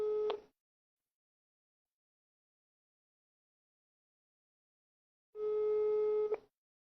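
A telephone ringback tone sounds while a call waits to be answered: a steady electronic tone bursts briefly, goes quiet for several seconds, then returns for about a second, close and clear with no talk.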